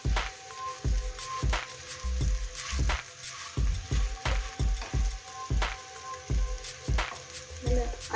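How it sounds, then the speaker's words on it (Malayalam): Muthia dumplings made from bottle gourd are stirred in hot oil in a pan, a faint sizzle running under regular, sharp knocks of the spoon against the pan. "അതിലേക്ക് നമ്മൾ മുറിച്ച് വെച്ചിട്ടിരിക്കുന്ന മുട്ടിയ ഇടാം വഴറ്റാൻ വേണ്ടിയിട്ട്."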